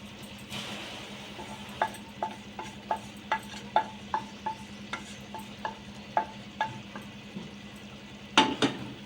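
A spoon scrapes and clinks against a pan while cooked, pasty tomato is stirred together with raw prawns. The strokes land in a steady, evenly spaced rhythm over a soft sizzle, with one louder clatter near the end.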